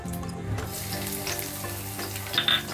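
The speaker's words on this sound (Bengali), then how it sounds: "দিয়ে হালকা ব্রাউন করে প্রথমে ভাজবো রসুনটা" Crushed garlic fries in oil in a hot wok, giving a steady, close sizzle throughout with a few brief stirring scrapes near the end.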